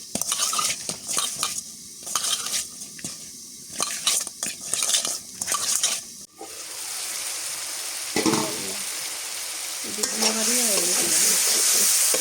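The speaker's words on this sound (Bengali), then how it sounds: "এই মাছ 4টা আমি ভাজি করবো।" Four pieces of hilsa fish fry in a pan; sharp clinks and handling knocks come first, then a steady loud sizzle takes over, with further scrapes near the end.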